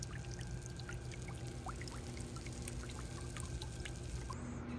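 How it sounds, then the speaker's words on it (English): Water from a hose rinsing off airless paint sprayer parts, a steady continuous pour and spatter that holds at an even level throughout, close by, with no talking. "So I hose that off"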